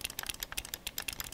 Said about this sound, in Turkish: Sağ ve sol tuşlara basıyorum.